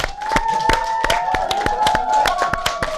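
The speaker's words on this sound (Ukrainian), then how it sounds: "Аплодисменти" Studio audience applauding a guest walking onstage, a steady run of sharp, close hand claps with crowd murmur underneath, lively and sustained from start to finish with no talking.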